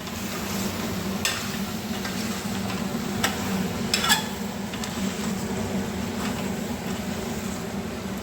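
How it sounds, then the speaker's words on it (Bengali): Mutton with garlic cloves sautéing in a pan: a constant low sizzle runs throughout, broken by occasional sharp scrapes and clinks of a spatula against the metal, close by and without speech. "এবার আবার ভালোভাবে একটু কষিয়ে নেব"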